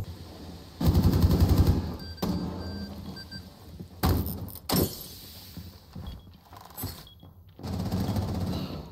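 Automatic F2 rifle fire in the Rainbow Six Siege shooter comes in several loud, close bursts of rapid shots separated by short pauses, with sharper single cracks and clatter between them.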